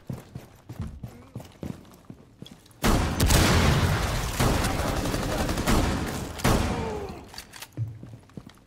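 Gunfire in Rainbow Six Siege, a sudden dense fusillade of rapid shots and bangs that bursts in after a quieter stretch, stays loud for several seconds, then thins out.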